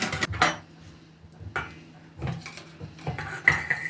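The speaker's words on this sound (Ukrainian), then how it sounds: "І збиваємо наші яйця" Eggs being whisked for a batter in a bowl, giving a few scattered clinks and scrapes of a utensil against the dish in short irregular bursts, fairly close and quiet.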